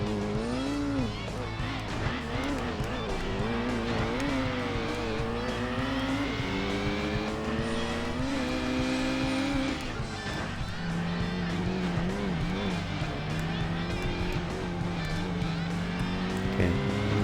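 The GT90 race car in Gran Turismo 2 drives hard, its engine note climbing and dropping through gear changes, with passing cars and occasional tire squeal, loud and continuous.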